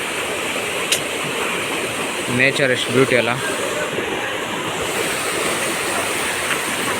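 Bandaje Falls in a forest trek setting pours with a constant loud rushing roar, while a person speaks briefly over the water.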